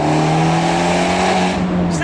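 Abarth 124 Spider sports car engine holding a steady, loud rev after a downshift in normal mode, with a continuous droning tone throughout.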